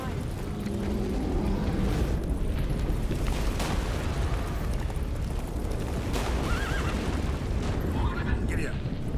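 Horse in the video game The Witcher 3 gives a couple of short whinnies amid loud rumbling, booming game ambience and music, with voices talking.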